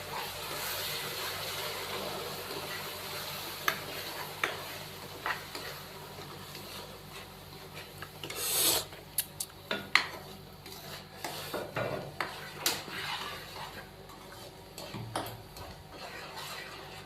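Semolina halwa with sugar syrup is stirred in a pot, a spoon scraping and clinking against the metal in an irregular rhythm, close and fairly quiet, with a few sharper knocks.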